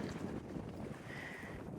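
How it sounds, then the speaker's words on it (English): Steady outdoor wind buffeting the microphone on a blustery day near water, a continuous broadband rush that holds at an even, fairly loud level throughout with no talking. "It's another windy day."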